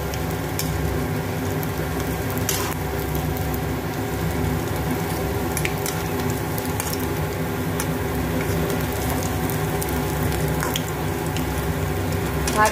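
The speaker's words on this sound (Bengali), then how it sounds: "এইভাবে বড়াগুলো মচমচে করে 2 পিস ভেজে নেব।" Lentil paste fritters (masoor dal bora) frying crisp in hot oil, a steady dense sizzle with fine crackling that holds evenly at close range throughout, with no talking.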